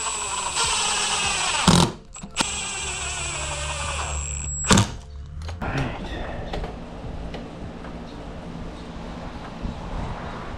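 A power driver sends screws into a wooden gate hinge in two sharp whirring bursts, with softer mechanical handling noises in between.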